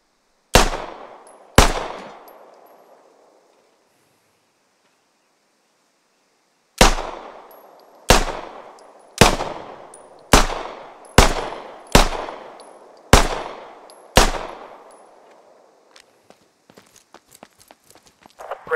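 Pistol fire in the Squad military shooter game: about a dozen sharp, loud single shots at uneven intervals, each with a short decaying tail, followed by faint rapid clicks.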